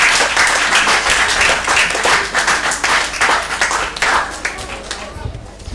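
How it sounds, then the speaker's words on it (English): An audience at a junior spelling competition at a school applauds for the spellers, steady dense clapping that fills the room for several seconds before tapering slightly, with some voices mixed in. "So let's clap for our spellers."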